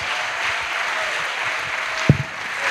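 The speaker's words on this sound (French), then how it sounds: "Acclamation à Jésus-Christ." A congregation applauds during a pastoral academy church session: steady, dense crowd clapping that fills the whole clip at an even level, with one brief louder knock near the end.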